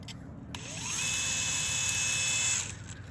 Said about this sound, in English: you're basically just gonna drill into it